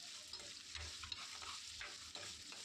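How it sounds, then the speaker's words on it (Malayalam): Green chilies and other fish curry ingredients sauté in a pan, a faint steady sizzle broken by light stirring clicks. "അപ്പോൾ ഇതെല്ലാം കൂടി ഇട്ടിട്ട് നമുക്ക് നന്നായിട്ടൊന്ന് വഴറ്റിയെടുക്കണേ."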